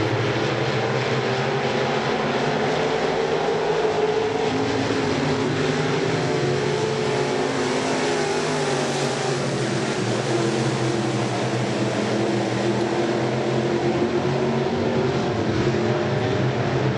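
Dirt track race cars in a SportMod heat at RPM speedway roar continuously, a loud steady engine drone from a pack of cars with no break across the stretch.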